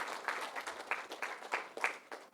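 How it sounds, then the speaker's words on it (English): Seminar audience applause, a short burst of many hands clapping at moderate loudness in an indoor hall, steady and dense for a couple of seconds. "So a big round of applause from all these people."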